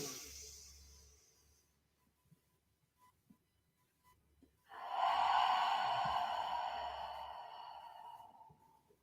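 Audible yoga breath, a faint inhale followed by a loud, long airy exhale that slowly fades, with no talking.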